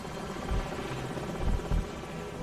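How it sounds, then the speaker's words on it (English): Enemy helicopter in the Call of Duty 4 video game, a continuous close rotor drone and buzzing whir with a few louder thumps amid battle noise. "Enemy helicopters."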